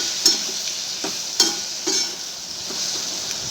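Okra being stirred in a pan with salt, turmeric and chili: a soft, faint sizzle runs throughout, and several scrapes of a spoon against the pan are spaced about half a second apart.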